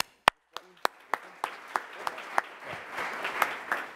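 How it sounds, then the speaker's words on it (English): An audience at a beverage pitch event applauds as the presenter comes up. A few sharp, separate claps build into steady, moderately loud clapping. "Round of applause for Jim."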